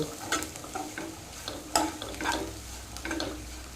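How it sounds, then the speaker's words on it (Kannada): Kebabs frying in a pan, a steady close sizzle broken by scraping stir strokes and light clinks at an uneven pace, no talk. "ಇಲ್ಲಿ ಕಬಾಬು ಫ್ರೈ ಆಯಿತು ಒಂದು ಬ್ಯಾಚ್ ಫ್ರೈ ಮಾಡಿ ಆಯಿತು"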